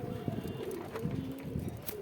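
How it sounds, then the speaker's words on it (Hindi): Soft, low cooing from a female pigeon kept by a pigeon fancier in Saharanpur, close but quiet, with faint background murmur. "ये देखें ये कबूतरी है"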